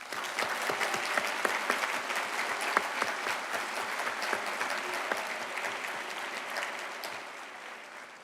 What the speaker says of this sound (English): let's show them our deepest gratitude with a well-deserved round of applause.